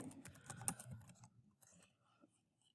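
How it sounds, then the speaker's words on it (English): Quick, close clatter of keys on a computer keyboard as notes are typed, a dense run of clicks that thins into a few scattered taps and quiet. "As soon as I click that, I can type notes here."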